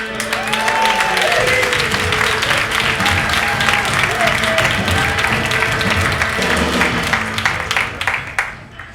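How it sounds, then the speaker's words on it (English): Loud, sustained applause from a large comedy club crowd with cheering voices, steady clapping that begins to taper off near the end. "How about a big round of applause for Stevie D?"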